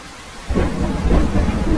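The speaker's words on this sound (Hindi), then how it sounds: "बारिश बहुत तेज थी।" Heavy cartoon rainstorm with a deep rumble of thunder rolling in loud and close after a brief quiet moment, over steady pouring rain.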